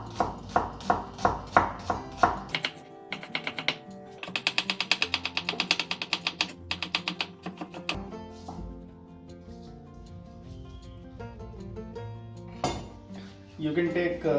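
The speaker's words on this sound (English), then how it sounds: "So I'll slice the onion." A knife slices onion for Rajasthani laal maas, giving a quick run of sharp, regular chopping taps at the start and again in the middle, alongside background music, then fading into quieter kitchen sounds.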